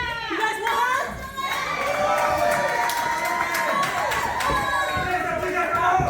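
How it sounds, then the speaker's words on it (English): A wrestling crowd at an AWF event cheers loudly and continuously, a dense roar of shouts and whistles over a commentator's voice. "And the crowd is feeling it for SOS here in the AWF Fan Nation"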